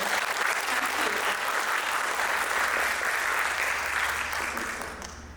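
Audience at an Arangetram classical dance performance in Mount Laurel applauds the dancer, a sustained dense crowd clapping that holds steady and then begins to fade toward the end.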